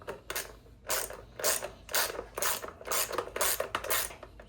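A ratchet wrench clicks in repeated bursts as it tightens a fastener during a backend install, its rapid pawl clatter coming in about eight short strokes, close and fairly loud.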